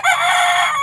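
A rooster crows loudly and close by in one sustained, strained call.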